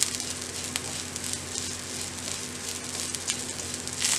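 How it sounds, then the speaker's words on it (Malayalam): Curry leaves sizzle steadily in hot coconut oil, a dense, even crackle with a brief louder burst near the end, close and with no voices. "ഇനി നമുക്കിതിലേക്ക് കുറച്ച് കറിവേപ്പില ഇട്ട് കൊടുക്കാം"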